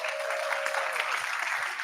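An audience at a closing plenary of a political movement conference claps in a steady, dense burst of applause that carries through the whole moment.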